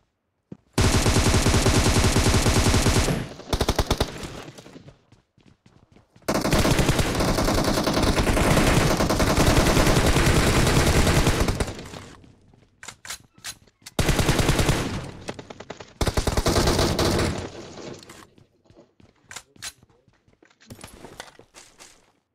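Loud automatic gunfire in PUBG Mobile comes in several long sustained bursts separated by brief gaps, then gives way to scattered single shots near the end.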